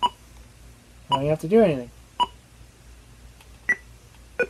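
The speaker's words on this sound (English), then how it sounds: "Nice little blippy sounds." Simple electronic blips from the video game Pong sound at irregular intervals, short and clear, with someone speaking briefly between them.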